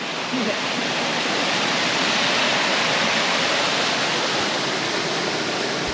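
Rainwater flows as a stream off a mountain on North Stradbroke Island, making a dense, constant rushing roar like a small waterfall, close and loud with no voices.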